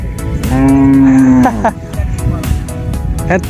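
Cattle low loudly from a large herd grazing on a sandbank in the middle of the Padma river, one long close moo followed by shorter calls against outdoor noise and background talk.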